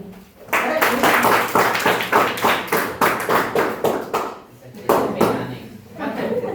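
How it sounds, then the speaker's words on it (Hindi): Children in a classroom clap for a classmate, a burst of fast, ragged hand claps lasting several seconds, loud and close, fading briefly before a second round starts. "ताली बजाओ बच्चों की।"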